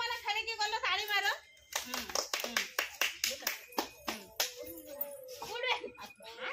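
Children chant and talk loudly while a run of quick hand claps taps out a rhythm beneath their voices, close and lively.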